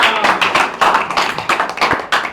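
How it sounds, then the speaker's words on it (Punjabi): A small audience claps close by in quick, uneven bursts that keep going without a break. "ਆਪਾਂ ਦੁਬਾਰੇ ਫੇਰ ਤਾੜੀ ਲਾਈਏ ਯਾਰ"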